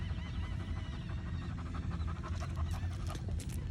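A dog panting rapidly in hot weather, a steady, close breathy rhythm that runs continuously without a break.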